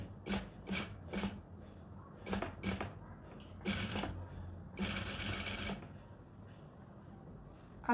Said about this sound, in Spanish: voy a coser a medio centímetro